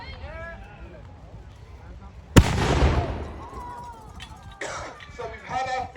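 A single loud boom from one barrel of a cannon fired at a medieval weekend at Arundel Castle, a sudden blast with a rumbling tail, with people talking before and after.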